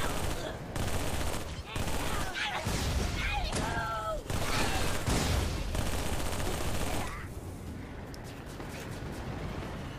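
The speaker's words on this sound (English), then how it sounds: "Who's shooting?" Rapid bursts of loud gunfire and shots in a video game firefight, near and sustained for most of the stretch, with some voices and effects mixed in before it thins out at the end.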